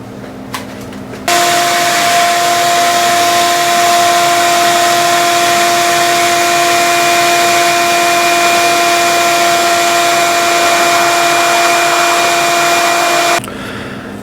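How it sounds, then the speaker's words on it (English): A vacuum cleaner sucks plastic debris out of the engine bay of a 2004 BMW 325xi during an engine rebuild. It is a loud, steady whine with a constant hum, switching on after a second and cutting off near the end. "Try to vacuum out whatever plastic's left down in there."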